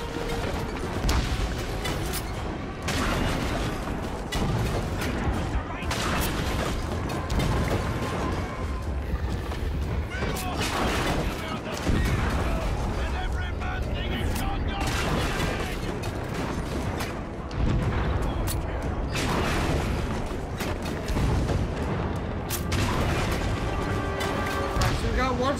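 Heavy booming artillery fire from a siege beast in a video game, dense crashing impacts and blasts layered over a chaotic battle din, with voices shouting throughout.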